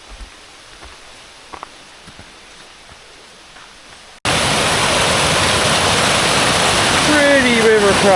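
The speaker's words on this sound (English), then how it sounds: "Pretty river crossing." A rain-swollen river rushes past a hiking trail crossing on Mount Hale. After about four seconds of quiet, the water breaks in as a loud, steady, close roar that continues to the end.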